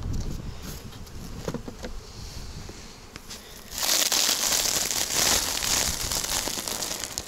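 Honeybees swarm around hives at an apiary as honey supers are lifted off after the main honey flow. A moderate buzz swells suddenly into a loud, dense, continuous drone close by.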